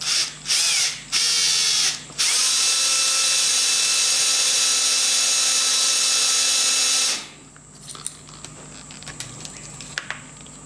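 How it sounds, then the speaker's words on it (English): A power drill bores a hole in a part for a Titan .60 glow plug model engine: a few short bursts come first, then one long, loud, steady whine, and after it stops only faint clicks and handling noises remain. "we'll have a go at drilling the hole"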